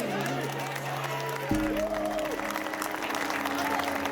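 A crowd on the dock applauds and cheers as Vendée Globe sailing skippers depart on their round-the-world race. Steady clapping runs throughout, with sustained horn-like tones sounding over it and voices mixed in.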